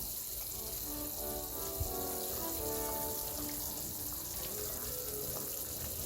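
Soft, steady bubbling of vegetable stock gently simmering in a pot, a low continuous watery hiss with small pops.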